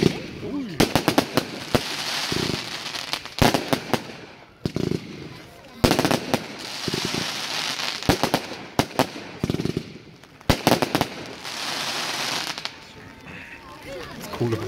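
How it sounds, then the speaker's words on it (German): Final Blast firework fan cakes, five seven-shot fan batteries with fast effects, fire at a music fireworks display in Stein near Nürnberg, sending rapid loud volleys of crackling bursts in repeated rounds. "Fünf imposante Siebner Fächersalben mit schnellen Effekten."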